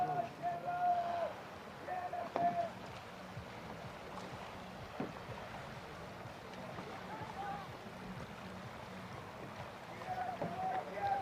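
Water swishes and splashes gently as a C1 racing canoe glides along in a men's 5000m World Cup race at Racice, Czech Republic, with paddle strokes and muffled voices talking in the background.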